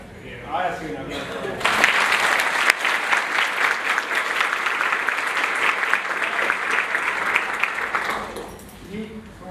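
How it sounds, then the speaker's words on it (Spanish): Audience applause breaks out after a short lead-in and carries steadily for about seven seconds, a dense wash of many hands clapping, then fades as voices return near the end. "Ahora sí, un aplauso."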